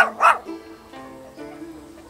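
A dog gives a couple of sharp, close barks at the start, followed by softer whimpering yips, with a voice faintly underneath.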